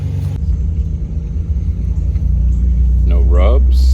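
A Nissan 350Z on Rev 9 Hyperstreet 2 coilovers drives along with a loud, deep road and engine rumble heard from inside the car, with a person speaking near the end.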